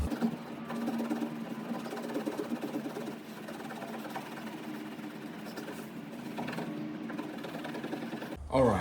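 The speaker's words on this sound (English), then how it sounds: "I ended up actually grabbing my buffer or my rotary machine, whatever you want to call it, to finish it off" A rotary buffer polishes the body of an Infiniti Q60 in a steady, continuous motor whir with slight wavering pitch, running close and loud for most of the stretch before cutting off near the end.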